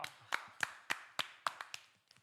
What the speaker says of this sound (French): on peut applaudir Pierre-Louis.